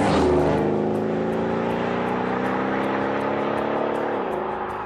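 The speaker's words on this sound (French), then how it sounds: "En mode confort, le V8 se contente d'un joli bruit étouffé et de reprises très convenables." Muffled V8 of a Mercedes S63 AMG in comfort mode, a steady smooth engine hum with layered tones held close and fairly loud, easing off near the end.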